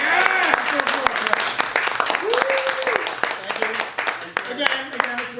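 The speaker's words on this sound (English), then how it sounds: "Applause for that, please." A few people clapping in a radio podcast studio, quick sharp claps scattered under continuous loud talking.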